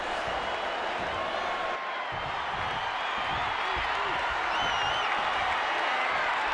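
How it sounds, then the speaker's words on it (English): A WrestleMania arena crowd in WWE 2K20 roars steadily, with cheering and scattered whoops holding at a constant loud level, a thud landing midway. "this crowd is on their feet in full appreciation"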